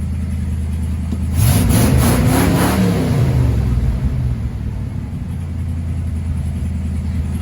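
An old 1980s Ford F-150 truck engine, recently repaired after a fire, running at idle before a loud rev climbs and then falls back. The engine keeps rumbling steadily afterward.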